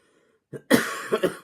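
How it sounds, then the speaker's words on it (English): A single close, harsh cough bursts out after a brief quiet breath, followed by a couple of smaller rough hacks trailing off. "Yeah, coughing."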